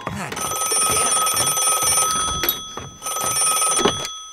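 A telephone rings inside a cabin in an animated short, with two long, loud, insistent ring bursts separated by a brief pause, heard close and alone.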